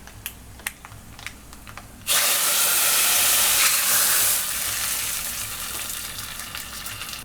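A hot asafoetida tempering hits a pot of pappu charu and bursts into a loud, sustained hissing sizzle after a few light clicks, then settles into a softer steady fizz as it is stirred in.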